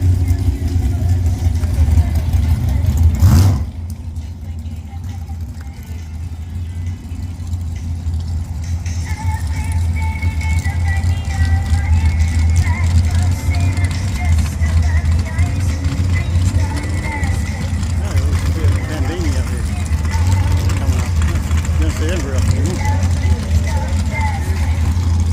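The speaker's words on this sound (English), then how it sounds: "The blue car's got a Barra. The car on the far lane's got a LS, I think." Track race cars at a championship round, one with a Barra engine and another with an LS, drone past loudly and continuously, engines revving and holding a deep rumble after a sharp early burst.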